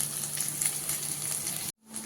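Steady hiss and crackle of food frying in hot oil, continuous and fairly close, cutting off abruptly near the end before a faint hum returns.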